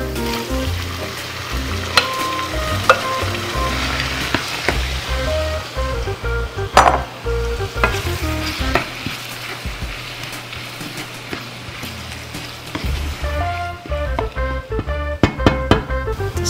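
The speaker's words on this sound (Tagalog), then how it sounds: "And then, we add the tomatoes." Tomatoes fry with four onions in a pan for beef mechado, a loud, steady sizzle broken by repeated spoon scrapes and clinks against the pan, with no one speaking.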